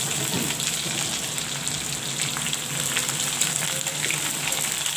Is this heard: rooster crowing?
no